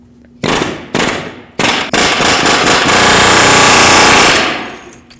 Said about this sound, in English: I'm going to use an air chisel because it's a lot faster